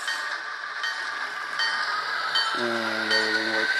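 A model train locomotive with onboard sound runs forward on track, giving a steady hiss and mechanical rumble, then a sounded whistle or horn with several tones joins near the end.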